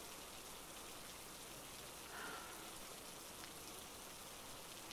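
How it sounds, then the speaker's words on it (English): Rain falls in a steady, even hiss with no breaks, soft and constant, with a slight swell partway through and no voices. "The rain's just annoying."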